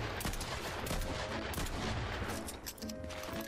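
Rapid, crackling pistol gunfire from Fortnite pops in quick repeated bursts for several seconds, dense and sharp, with a brief lull near the end before more shots.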